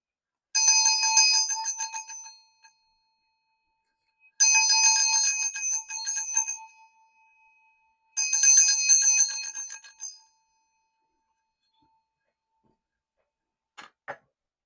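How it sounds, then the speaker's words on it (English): A Vajra bell rung three times, each strike ringing out bright and sustained for about two seconds before fading, followed by a faint clink near the end. "this particular reading, we will use the Vajra bell"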